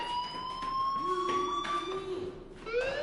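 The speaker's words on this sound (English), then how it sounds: "do you hear that fire alarm?" A fire alarm wails in a steady, rising and falling electronic siren tone, loud and continuous across the stretch, with a second higher sweep overlapping near the end and no voices heard.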